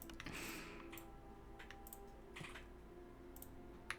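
Faint, quick keyboard clicks tap out in short scattered bursts, soft and close against a quiet background hum.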